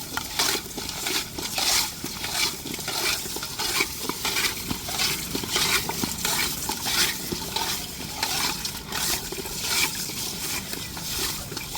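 Kendai fish rubbed hard with coarse rock salt gives a steady, gritty scraping and rasping, close and continuous with small rhythmic surges, and no talking over it.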